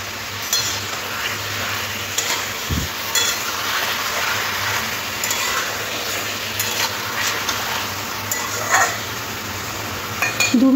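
Chicken pieces and onions stirred in a pot for a dhaba-style chicken curry: a steady sizzle runs throughout, with scraping and occasional clinks of the spoon against the metal pot.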